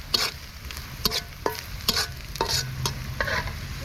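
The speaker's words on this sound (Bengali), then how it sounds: "এই তেলের মধ্যেই আমি দিয়ে দেবো পেঁয়াজ আর কাঁচামরিচ" Onions and green chilies frying in hot oil for a Bengali hilsa fish curry with green banana and potato, with a steady sizzle broken by several sharp scraping stirs at irregular intervals.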